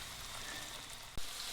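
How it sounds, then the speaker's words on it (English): Meat sizzles in a frying pan, a continuous close hiss and crackle with one brief sharp pop near the end and no talking. "you see how that's sizzling up?"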